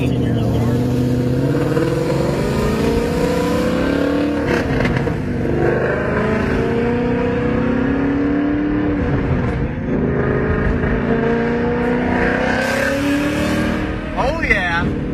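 A 1998 Mustang with a supercharger accelerates from inside the cabin, its engine rising and falling in long revving sweeps with occasional pops, loud and continuous, while people talk over it.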